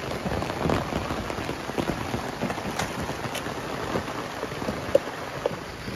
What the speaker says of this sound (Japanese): もう外はすっかり雨です。